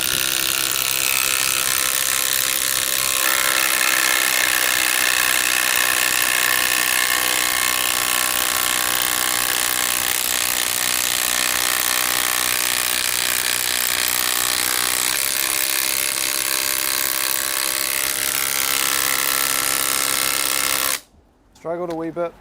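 A first-generation Makita TD001G impact driver runs loud and steady for about twenty seconds, its rapid hammering continuous until it stops abruptly near the end.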